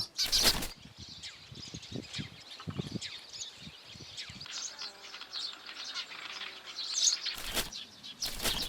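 Sparrows nesting in a thatched straw roof of an old village house, with bursts of wing flapping near the start and end and scattered chirps throughout, close and fairly lively.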